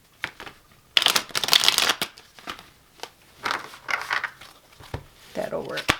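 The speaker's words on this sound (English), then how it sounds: "Let's do one more shuffle." Tarot cards being shuffled by hand in quick riffling bursts, crisp and close, broken by short pauses, with a person talking softly between shuffles.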